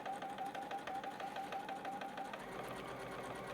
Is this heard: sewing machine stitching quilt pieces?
yes